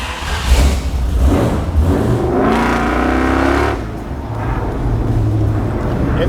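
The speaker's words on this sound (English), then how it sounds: "It gets louder like as soon as you accelerate for sure" A 1975 Dodge Ramcharger engine roars close and loud on a test drive, rising in pitch as it accelerates for a few seconds, then dropping back to a steadier rumble.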